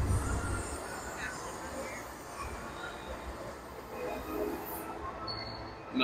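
The Hogwarts train ride at Universal Studios Florida gives a continuous rumbling rail-car roll from inside the carriage, with faint wheel squeals and a brief high screech near the end.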